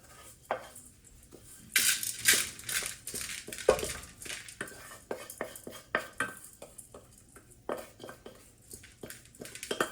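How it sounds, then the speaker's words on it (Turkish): Dry rice grains pour and rattle into the removable inner pot of a rice cooker, a series of crisp, close scattering and clinking bursts of uneven rhythm. "Pirincimizi bunun içine ekliyoruz."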